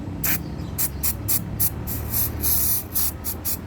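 Carburetor cleaner sprayed onto a dirty Honda Dio scooter carburetor in close, short hissing bursts, about ten of them in an uneven rhythm, with no talking.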